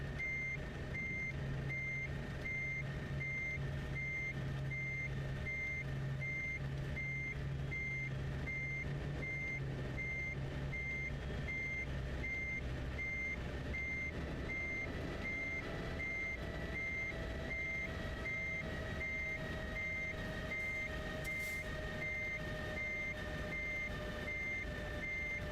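A truck in a driving simulator game backs up while parking, its reversing alarm pulsing in a steady, evenly spaced beep over a constant low engine rumble, continuing without pause throughout.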